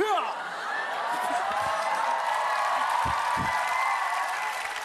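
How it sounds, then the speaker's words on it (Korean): Studio audience applause during a KBS Gag Concert comedy sketch, steady clapping with some laughter and a couple of sharper claps, while a performer's voice carries on over it. "웃음은 안 나고 냅다 박수만 치네"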